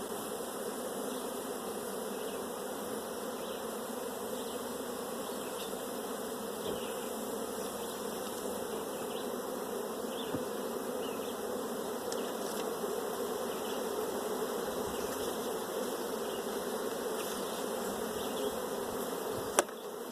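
Honey bees buzz steadily inside a hive being treated for a high mite load, a continuous dense drone held at an even moderate level throughout, with no talking.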